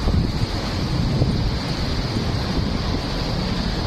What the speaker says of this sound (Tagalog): Sarap ng hangin dito yun.